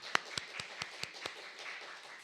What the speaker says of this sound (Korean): 박수 좀 쳐주시기 바랍니다